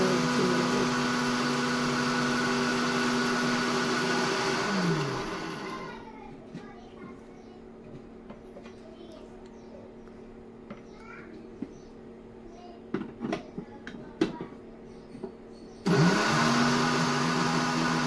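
A mixer grinder whirs loudly for about five seconds, winds down, then after a quiet stretch with a few clinks, starts up again at full roar.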